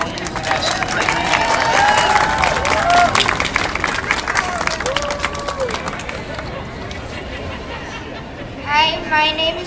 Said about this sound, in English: Applause for our National Youth Ambassador, Gregory.